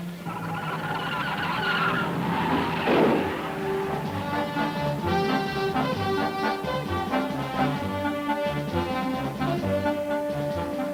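Novi racing cars roar past at Indianapolis with high, sustained engine whine and shifting pitch, a loud mechanical drone filling the whole stretch.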